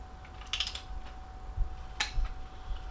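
Torque wrench tightening engine bolts during a 3.7L Jeep Grand Cherokee engine rebuild: a couple of sharp, close metallic clicks over a quiet background.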